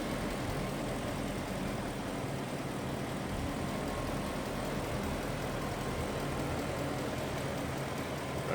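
A 1999 BMW 740i sedan engine idling, a faint, steady low rumble with broadband hum holding evenly throughout, no voices over it.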